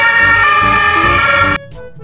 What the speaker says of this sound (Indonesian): Wah, kalau yang ini ambulan teman-teman.